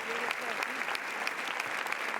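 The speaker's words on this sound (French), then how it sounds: "Paul Verhoeven applauding the audience." Audience applause filling a packed theatre at the Cannes 2021 premiere of Benedetta, steady dense clapping throughout, fairly faint and distant.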